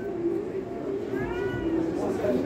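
A cat meows at a pet market in Riyadh, a thin rising cry over steady crowd noise and chatter.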